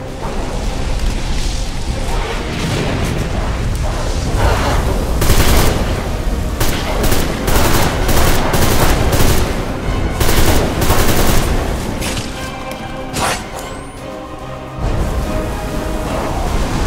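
Gunfire in Deadfall Adventures, bursts of rapid shots and booms repeating across a noisy stretch, loud and close, with bright sharp volleys clustered in the middle and later.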